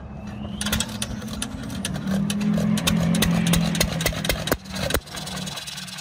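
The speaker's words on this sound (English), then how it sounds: "1925 John Deere Model E hit and miss tractor. It's riding on a 1964 wheel horse chassis." A 1925 John Deere Model E hit-and-miss engine mounted on a 1964 Wheel Horse tractor chassis runs nearby with a low, steady chug and sharp periodic clacks, and no one talks.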